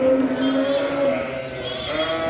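Lambs being fattened in a farm pen bleat close by in sustained, overlapping wavering calls that run through the whole moment.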